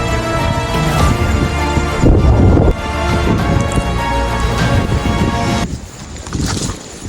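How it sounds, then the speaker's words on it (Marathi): Loud, steady wind at Rohida Fort near Bhor buffeting the microphone, rumbling continuously throughout with a brief easing near the end. "थांबा वारा दाखवतो तुम्हाला"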